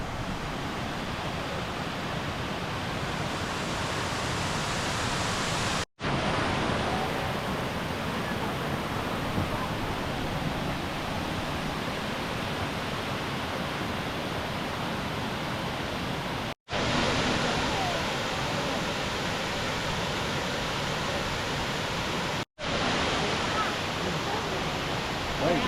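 A roaring waterfall pours steadily as a dense, loud, continuous rush of water close by, with three brief cuts of silence breaking the flow.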